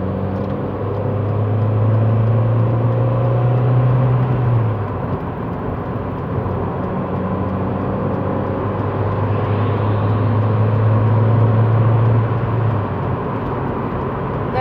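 Inside an 18-year-old car cruising on an expressway, a steady loud road and engine drone with low humming tones rising and falling throughout.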